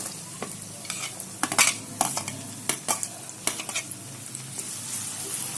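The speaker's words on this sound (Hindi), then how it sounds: "अब हम इसमें डाल देंगे एक प्याज बारीक बारीक कटा हुआ।" Finely chopped onion frying in a pan, a soft steady sizzle under repeated scraping and stirring clicks of a spatula against the metal.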